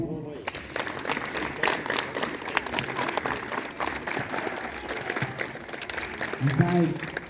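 Students at a school assembly clap together in a dense, steady burst of applause that runs the whole stretch, with a crowd murmur and a few voices mixed in.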